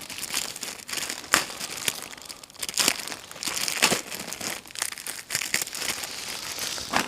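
A plastic US Army ration packet crinkles and crackles continuously, with sharp rustling bursts as it is handled and pulled open up close.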